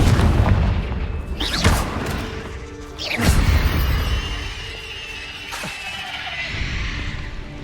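Confringo blasting spell explosions in the video game Hogwarts Legacy: two heavy booming blasts a second and a half apart, each followed by rumbling debris and crackle, then a lighter crash near the end.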